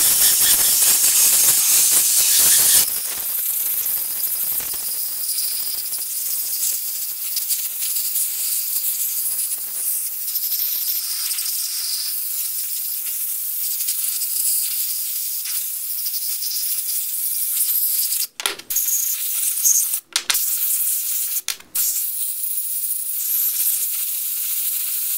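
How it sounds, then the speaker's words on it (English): Air compressor blow gun blowing air through a Smith & Wesson M&P 9mm Shield pistol: a loud, continuous hiss that sharpens briefly at the start, with three short cutoffs near the end. "I've got your standard air compressor hose and a little blow gun here."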